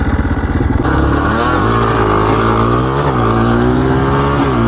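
Two beginner quads, a Yamaha Blaster and a 250X, roar off in a drag race, loud buzzing engines climbing in pitch as they accelerate, with a brief shift dip before revving on at full throttle.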